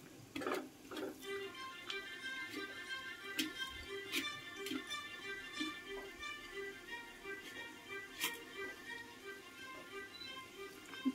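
Thick Andhra broad bean (chikkudukaya) curry stirred in a pot, with repeated light scraping and tapping strokes over a low bubbling background, close by, steady and moderate in level, no voice heard.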